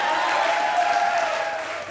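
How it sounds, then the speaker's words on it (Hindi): A studio audience at a Hindi TV comedy show claps in a dense, loud, even wash of applause that holds steady and eases off slightly at the end. "बोलो तालियां"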